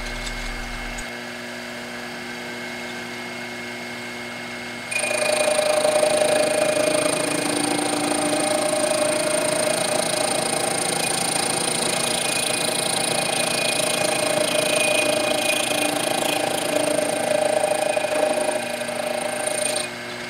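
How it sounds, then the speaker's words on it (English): A milling cutter cuts the teeth of a small pinion gear for a homemade fishing reel, the gear held on an arbor on a dividing head. A steady machine hum at first, then a louder continuous tonal cutting whine from about five seconds on. "I cut the teeth in 2 passes, with the cutter swinging towards the mount so the forces would not try to push the gear off the arbor."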